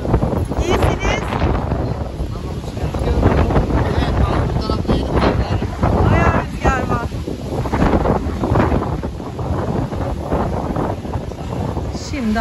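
Strong wind gusting outdoors in a continuous loud roar that buffets the microphone, with people talking over it.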